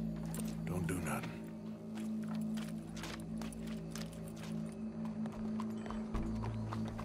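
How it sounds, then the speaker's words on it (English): Horse hooves clip-clop in the video game Red Dead Redemption 2, an ongoing soft rhythmic clatter under music and speech from the game. "Go brush that horse"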